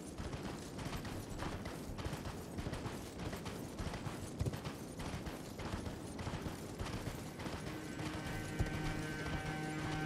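Horse hooves clip-clopping in the video game Elden Ring, a fast steady rhythm of close, even hoofbeats running throughout with faint mechanical game sounds behind.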